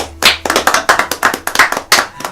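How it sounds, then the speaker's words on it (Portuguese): A church congregation claps for Jesus at the close of a service, about a dozen loud, sharp claps in a quick, slightly uneven rhythm, close and alone. "Palmas para Jesus"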